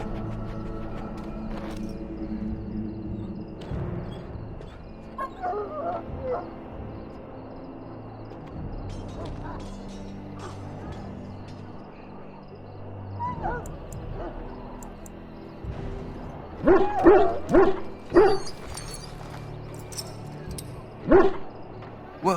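A dog in the Dragon Age: Origins video game yips and barks in short bursts, growing louder toward the end, over a steady ambient game soundscape with some talk.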